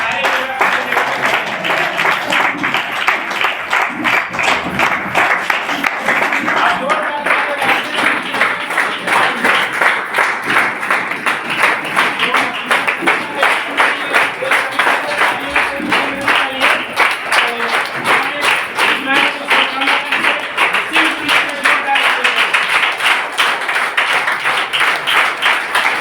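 A standing audience gives loud, sustained applause at a welcome during a planning talk, dense clapping filling the whole stretch with a faint murmur of voices underneath.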